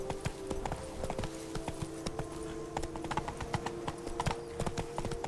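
Hooves of a galloping horse in The Witcher 3, a fast, even clip-clop rhythm repeating steadily and close up throughout, with faint game ambience beneath.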